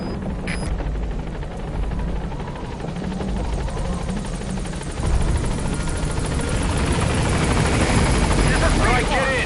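A B-Quad support helicopter in Metal Gear Solid V arrives at a landing zone, its steady rotor chop swelling louder over several seconds, with voices speaking over it.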